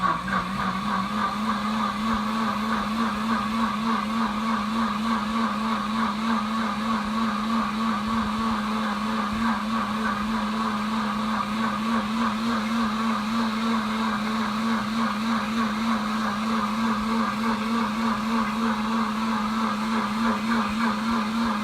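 A Pampered Chef Deluxe Cooking Blender runs its heated self-wash cycle, producing a continuous, even motor whir with a low steady hum and a slightly wavering tone, close and unbroken.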